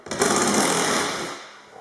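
A powered driver spins out T20 Torx screws from a caravan door panel in one brief, loud, whirring burst that tapers off after about a second.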